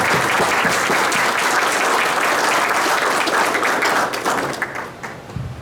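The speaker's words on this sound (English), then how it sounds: "Let's give our new Eagle Scout one more round of applause." Loud, sustained applause from an audience at a Scout troop's Eagle Court of Honor ceremony, dense clapping filling the room before tapering off near the end.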